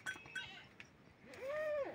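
A goat on a countryside farm gives a single drawn-out, wavering bleat near the listener, preceded by light clinks that sound like a cowbell and faint farmyard background.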